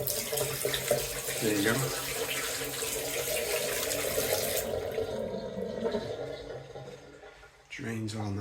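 Water runs and drains from a kitchen sink in a steady rushing flow that cuts off partway through, followed by quieter room sound and a brief spoken remark near the end.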